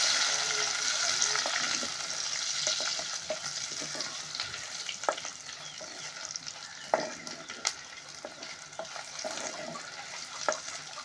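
Shrimp and red chillies fry in a pan in a home kitchen for a telaga pindi curry, a steady hissing sizzle broken by scattered pops and stirring scrapes, fairly close.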